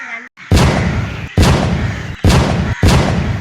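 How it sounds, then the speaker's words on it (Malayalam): Firecrackers set off during Vishu burst in four loud, close booms roughly a second apart, each a sharp crack trailing into rumbling noise, with a brief voice just before the first blast. "ആരെങ്കിലും പടക്കം പൊട്ടിച്ചായിരിക്കും"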